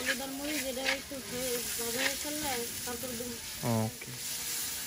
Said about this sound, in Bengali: শুটকিগুলো দিয়ে দিচ্ছে, শুটকিগুলো ভেজে নিবে।